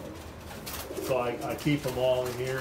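Racing pigeons coo softly in a loft, with short low coos rising intermittently beneath someone talking nearby.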